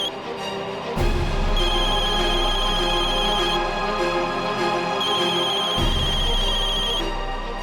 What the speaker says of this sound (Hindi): फोन क्यों नहीं उठा रही हो तुम?